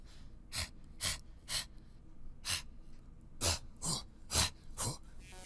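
Loose, breathy exhale samples punctuate a Tyler, the Creator-style hip-hop beat, about eight short airy bursts spaced in a loose rhythm, fairly quiet and close, with no voice speaking.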